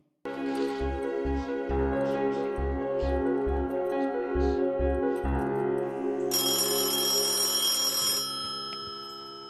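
A telephone rings with a repeated electronic trill in regular evenly spaced bursts, loud and close, followed by a brighter sustained tone near the end.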